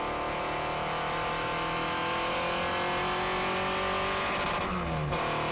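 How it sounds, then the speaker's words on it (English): Vintage Lagonda Rapier race car accelerating along a circuit, a loud sustained engine roar with rising pitch and a gear change near the end, heard alone without talk. "Grabs a gear right up alongside the Lagonda Rapier and powers his way through into 2nd place now."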